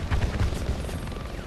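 A helicopter in the war shooter Homefront, heard as a loud, dense low rumble with a rapid pulsing beat over the first half, easing to a steadier drone with no talk.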